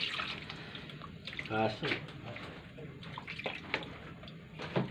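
Tap water runs steadily into a sink while dishes are washed, a continuous close splashing hiss with occasional clinks, under a person talking.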